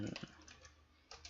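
A computer keyboard gives a few quick, faint key clicks in a short burst, close by and quiet.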